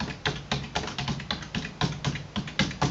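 Quick, irregular keystrokes tap on a computer keyboard as a search phrase is typed, close and moderately loud, with no voices.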